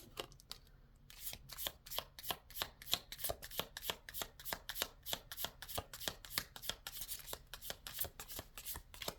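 Tarot cards shuffled by hand in a quiet room: a long run of quick, crisp papery riffles and slaps repeating in a brisk, uneven rhythm, close and fairly soft, with no voices.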